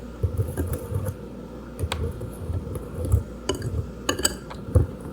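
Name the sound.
whisk stirring pancake batter in a bowl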